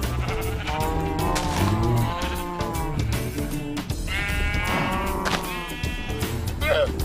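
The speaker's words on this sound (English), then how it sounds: "What is up, brave sheep?" Sheep bleat in the Minecraft video game, with several wavering, nasal bleats spread through the clip and a person talking over and between them.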